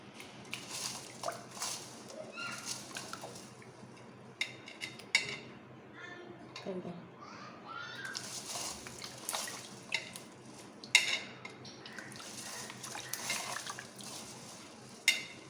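Chinese potatoes (koorka) are dropped into a bowl of water, making a run of small close splashes, drips and light clinks against the container at an uneven pace, with faint handling noise between.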